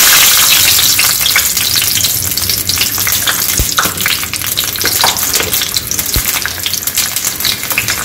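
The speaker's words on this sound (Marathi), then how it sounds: "याला छान 2 मिनिटं फ्राय होऊ द्यायचे आहे" Garlic and ginger frying in hot oil make a loud, dense, continuous sizzle with a couple of faint clicks from stirring, close up and steady throughout without any talk.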